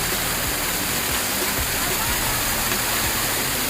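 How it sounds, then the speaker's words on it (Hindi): Glacier meltwater rushes in a loud, steady stream along the Kedarnath trek, a continuous close roar of flowing water that fills the whole moment. "ग्लेशियर का पानी है ये।"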